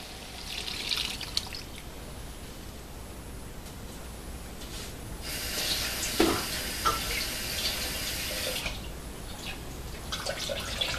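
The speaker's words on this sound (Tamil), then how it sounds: "1 கப் தண்ணி வந்து இதில் ஆட் பண்ணிக்கலாம்." Water runs and splashes steadily into a pot of tamarind brinjal curry for a few seconds, a broad rushing pour that swells midway and then tapers off.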